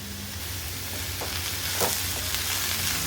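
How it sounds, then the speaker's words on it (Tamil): Bottle gourd with turmeric, asafoetida and salt sautés in a pan for chutney, giving a brief steady sizzle with a couple of soft stirring scrapes, close up and without voices. "சொரக்காயில் உள்ள பச்சை வாடை போகிற அளவுக்கு நல்லா வதக்கி விட்டுக்கலாங்க"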